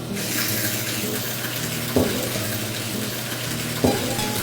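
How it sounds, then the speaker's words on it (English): Whiskey mash, about 12% sugar, splashing as it is pumped into a fermenter, a steady loud rushing wash of liquid with a continuous pump hum and two brief sharper splashes, no talk. "We're intentionally splashing as we're pumping it in to generate a little bit more oxygen into the mash"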